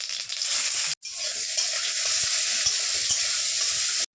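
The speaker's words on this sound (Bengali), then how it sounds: "পেঁয়াজগুলো ভাজা হয়ে গেছে" Chopped onions with black cumin fry in oil, a dense steady sizzle close up, briefly cut off near the start and resuming with soft stirring taps underneath.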